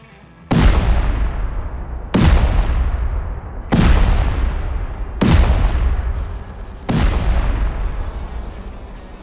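Five heavy C4 charges detonating one after another at roughly 1.5-second intervals during a Rust base raid, each a loud, close boom with a long rumbling decay that fades under the next blast.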